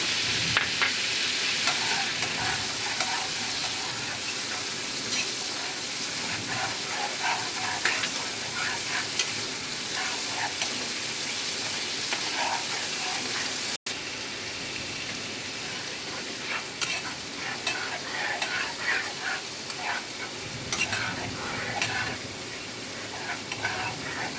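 Ginger and green chilli paste fries in a pan with a continuous crackling sizzle, broken by scraping stir strokes and occasional sharper spits, close and fairly loud throughout.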